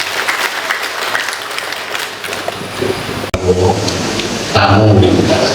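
An audience at a village heads' neutrality briefing for a regional election applauds a guest, a dense crowd of hand claps mixed with talk and a loudspeaker voice.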